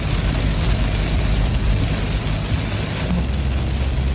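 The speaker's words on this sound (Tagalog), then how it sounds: "Sobrang lakas ng ulan dito sa NLEX." Dense, steady rush of heavy rain on the NLEX expressway, loud and continuous, with a low rumble like traffic underneath.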